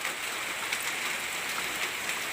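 Steady rain pattering on surfaces outdoors, a dense hiss with scattered drop ticks, constant and close, with no talking.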